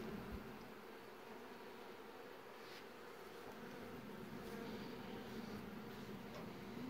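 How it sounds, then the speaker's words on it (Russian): Honeybees flying around a beehive, a steady dense buzzing drone that stays even throughout, fairly faint and continuous, with no talking. "Ну, пчелы так, конечно, может и летают вокруг меня, но не набрасываются."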